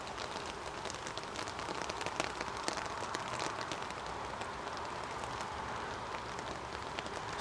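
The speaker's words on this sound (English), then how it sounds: "even if you can hear the rain" Steady rain falls at an airport runway during a live plane-spotting session, a dense continuous hiss with scattered drop patter, even and unbroken throughout with no voices.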